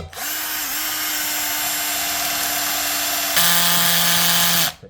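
A household power drill whirs at a steady high pitch, then shifts to a louder, lower tone under load while driving a screw, before stopping.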